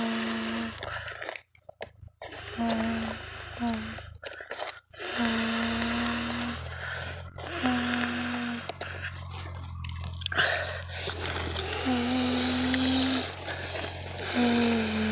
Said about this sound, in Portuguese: Vamos ligar o esteiro aqui.